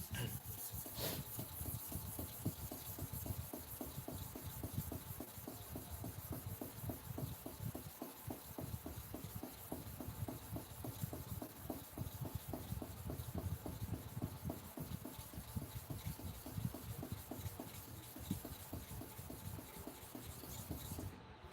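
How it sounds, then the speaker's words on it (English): Steady rasping, rubbing strokes of an 808 barber clipper blade being sharpened, a continuous fast scraping grind running throughout at moderate level with no clear speech. "The sharpening is progressing."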